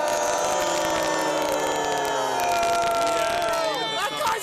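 A large rally crowd cheers and applauds loudly and steadily, a dense wash of clapping and shouting that swells near the end.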